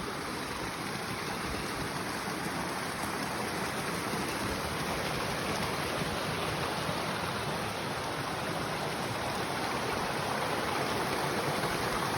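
Ice-cold snow-melt stream along a mountain UTV trail, a continuous rushing wash of flowing water heard close and loud, steady throughout with no voices.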